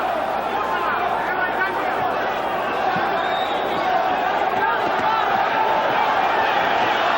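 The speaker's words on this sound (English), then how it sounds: "the crowd goes insane with every punch" A boxing arena crowd roars continuously during the Chavez vs Tszyu fight, a dense, loud wall of cheering with a commentator's voice running over it.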